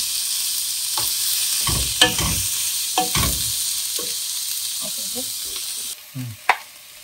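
Idli frying in a pan for fried idly at breakfast, a continuous bright sizzle with intermittent stirring scrapes and clinks, close and fairly loud, no talking.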